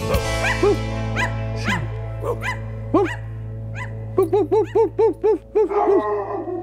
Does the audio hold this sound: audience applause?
no